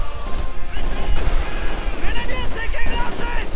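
Bursts of gunfire rattle against German Grenadier infantry in the strategy game Company of Heroes 2, dense overlapping shots and impacts filling the whole stretch beneath a commentator's voice.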